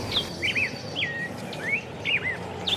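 Birds sing with short, clear whistled phrases repeating, over a steady outdoor background hum of insects, at Lake Toba, Sumatra, Indonesia.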